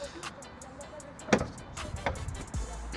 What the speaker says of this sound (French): en autre option très cool qu'on a sur ces années-là, on va avoir l'arrivée du soft close